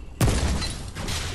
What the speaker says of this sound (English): Fireworks, man, celebrate.